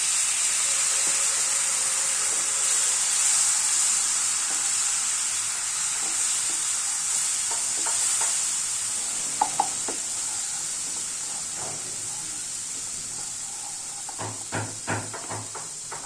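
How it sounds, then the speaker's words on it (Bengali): Spice masala with turmeric powder and a splash of water sizzles in a pan for a jackfruit kofta curry, a steady close hiss with occasional soft stirring knocks near the end and no talk. "আর দিলাম এতে হলুদ গুঁড়ো, আর অল্প একটু জল দিয়ে দিই, যাতে মশলাটা ধরে যাবার ভয় থাকবে।"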